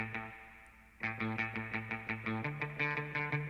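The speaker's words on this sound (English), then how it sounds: "which is why I have it set to mute and it sounds like this" Electric guitar run through the Amplitube plugin on its mute setting, playing fast repeating palm-muted notes in a tight, even rhythm after a brief sustained tone, clear and alone.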